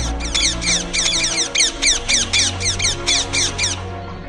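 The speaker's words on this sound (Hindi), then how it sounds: "आसपास से तोता का झुंड भी डर से उड़ जाता है।" A flock of parrots squawks repeatedly in quick, harsh bursts as the birds take flight in fear, with loud calls layered over a low background rumble and continuing steadily throughout.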